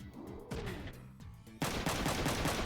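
Video game machine gun fire from Front Mission 3: short rattling bursts, then a louder, dense stretch of rapid shots that runs to the end.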